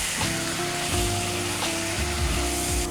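Mutton pieces frying in a pan for mutton korma, a loud close sizzle running throughout under a droning background hum, with no talking.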